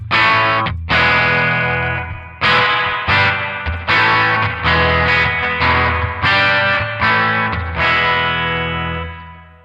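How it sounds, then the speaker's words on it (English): Electric guitar chords strummed in bursts, each ringing out with a wet, splashy spring reverb tail and a slightly gritty amp tone. "Obviously this super wet, splashy, pingy, just awesome sounding reverb."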